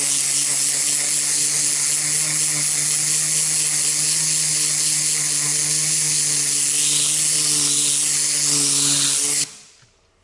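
A Tornador air blow gun blasts compressed air to dry a damp sanding disc, a steady loud hiss with a rattling whirr running without pause until it cuts off abruptly near the end.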